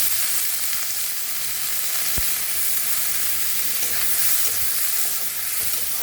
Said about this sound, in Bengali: পেঁয়াজটা হালকা ভাজা হোক